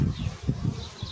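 Honey bees buzzing at a hive colony raising drones, a close, continuous low insect drone with small pulsing swells, alone and fairly quiet.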